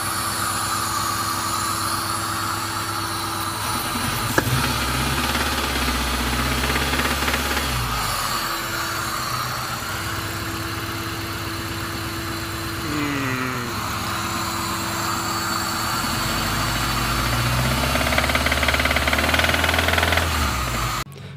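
A Suzuki Sierra G16B engine, suspected of a broken piston skirt, runs close up with a loud, persistent metallic knocking over its idle, revs rising and falling a few times across the stretch.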